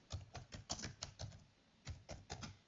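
Quiet, quick clicks of a computer keyboard while a search is typed into Windows, several bursts of keystrokes with a short pause in the middle.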